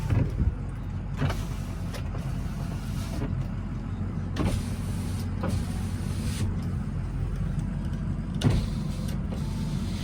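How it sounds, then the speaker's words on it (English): Power windows on a 2006 Ford F250 6.0 Powerstroke truck run up and down in a few separate strokes, each a short electric motor whine with a thump at the stop, heard close inside the cab. "So test the windows."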